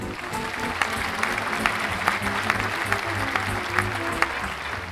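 Audience applause follows a stage musical performance, many hands clapping in a sustained, even patter with occasional louder individual claps and a faint murmur beneath.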